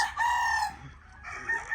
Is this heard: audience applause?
no